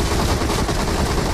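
Gunfire in the PUBG Mobile video game: a loud, dense, continuous stream of rapid shots filling the whole moment, with no talk.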